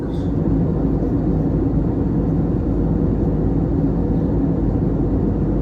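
Steady, loud engine rumble and broadband hiss inside a Peach Aviation airliner cabin descending toward Okinawa, a constant drone with no breaks or voices.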